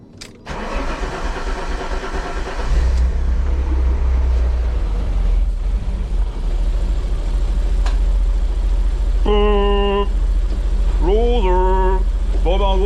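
An Alfa Romeo 147 GTA engine is started after spark plugs were swapped and the intake manifold refitted: the starter cranks, then the engine catches into a loud, steady low idle, with short tonal whines later.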